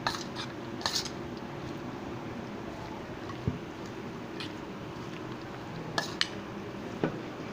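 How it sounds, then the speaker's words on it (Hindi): Cabbage salad being mixed with mayonnaise and pineapple in a bowl, giving a steady close rustling, squelching churn broken by a few sharp utensil clinks, with no talking. "और अभी इसको मैं मिक्स करता हूँ अच्छे से"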